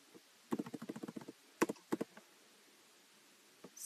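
A short burst of rapid keyboard typing, then two or three isolated key taps after a pause, close and distinct against a quiet, nearly silent background.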